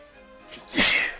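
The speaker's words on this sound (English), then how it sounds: "Uh oh, I'm gonna sneeze." A Digimon Story Cyber Sleuth character gives one short sneeze, a quick intake followed by a sharp burst, heard close and alone.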